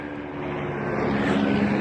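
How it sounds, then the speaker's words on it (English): Helicopters flying overhead make a steady, droning engine and rotor roar that grows slightly louder across the short stretch, with no talking. "I'm being stalked by helicopters"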